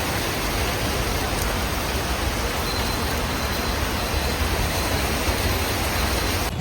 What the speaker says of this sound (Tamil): செம்ம மழை ஹெவியாக இருக்குது.